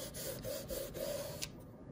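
A nail stamping plate being wiped clean with plate cleaner, a rhythmic rubbing swish in several quick back-and-forth passes, close and soft, then a brief stop.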